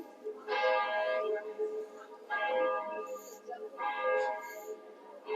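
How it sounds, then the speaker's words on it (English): A church bell rings in Lucca, sounding in three bursts of rich harmonic tones with a lingering hum between them, fairly loud and steady with no talk over it. "the bell just keeps on ringing."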